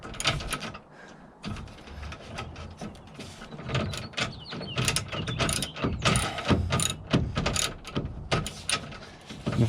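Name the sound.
retractable ratchet tie-down being ratcheted, Sprinter van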